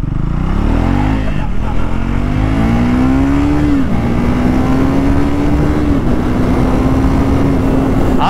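A 2024 Triumph Speed 400 motorcycle pulls away in first gear, its engine note climbing steadily and close up, with a gear change marked by a brief dip around mid-run, and a rider speaking over the steady loud drone.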